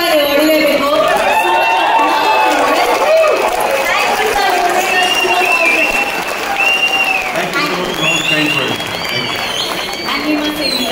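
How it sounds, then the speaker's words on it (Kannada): Audience at a Dubai stage event applauds loudly and steadily, a dense wash of clapping and crowd noise carrying on for the whole stretch, with cheering voices mixed in. "ನಮ್ಮ ದುಬೈನ ದೊರೆಗಳಿಗೆ ಎತ್ತರಿಂದ ಚಪ್ಪಾಳೆ ಹೊಡಿಲೇಬೇಕು"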